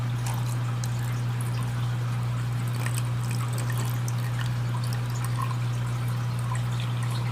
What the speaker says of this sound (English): I just got a cup of water from one of my old tanks